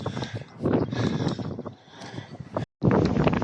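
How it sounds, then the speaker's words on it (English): Wind on a hilltop buffets the microphone in loud, gusty bursts that surge and fade unevenly, with a brief complete dropout near the end. "That's blooming windy up here."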